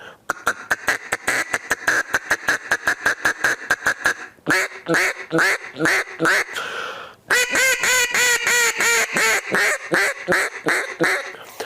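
A duck call quacks in a rapid, evenly spaced series of loud, close calls, then shifts to longer, raspier quacks and a steady run of blaring notes.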